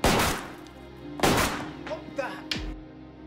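Three sharp gunshots fired indoors in an apartment ring out a second or so apart, each with a short echoing tail over a low background hum.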